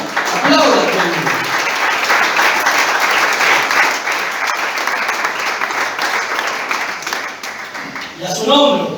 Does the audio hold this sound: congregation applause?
yes